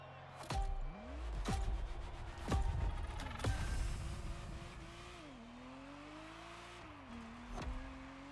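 Ferrari Testarossa engine in the racing video game The Crew Motorfest, revving and shifting with rising and falling pitch, several sharp clicks or gear changes early on, then a steady drone that eases off.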